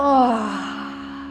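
One long, deep, voiced exhale is released during a full-body stretching exercise, close and fairly loud at first, then gradually fading out.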